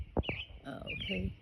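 A bird chirping outdoors, with a couple of quick bright tweets close by, mixed with a short spoken word.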